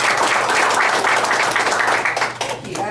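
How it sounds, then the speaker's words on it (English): A breakfast gathering's audience gives a brief round of applause, rhythmic claps rising strongly then tapering off as a few scattered claps linger. "So let's give her a round of applause."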